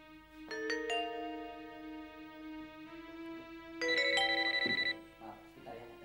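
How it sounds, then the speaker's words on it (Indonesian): A phone ringtone plays a rising melodic tune, pauses briefly, then sounds again louder and brighter near the end. "Maaf, sebentar ya, ada telepon."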